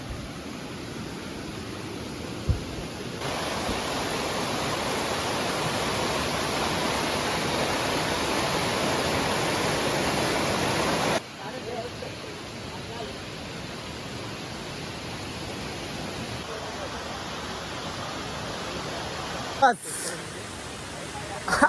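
A waterfall's rushing water makes a steady, loud hissing roar that rises and falls as the listener moves nearer and away, with a few sharp knocks and handling bumps close by.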